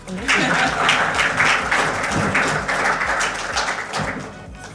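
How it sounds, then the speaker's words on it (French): A burst of applause from a group, clapping fairly loud and steady before gradually thinning out toward the end. "Est-ce que c'est possible d'applaudir aussi pour moi?"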